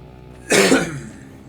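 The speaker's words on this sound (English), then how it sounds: "Apologies for the coughing." A single sharp, loud cough close to the microphone, with a brief throaty tail, from a person recording a let's play of The Banner Saga.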